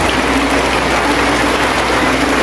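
Heavy rain pours steadily over floodwater in front of a store, a dense, constant wash of noise with a low mechanical hum underneath and no voices.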